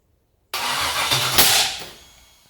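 A junkyard LS 5.3 V8 fires for the first time on an engine stand, cranking abruptly into a loud, rough roar with a sharp burst near the middle, then fading as it dies down.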